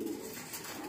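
Racing pigeons cooing close by, a soft continuous low coo that fills the brief moment.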